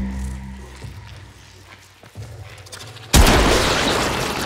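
Weapon fire on an alien hive in the video game Warframe: quieter thuds and game sounds build up, then a sudden loud burst of gunfire and explosion erupts and keeps roaring to the end.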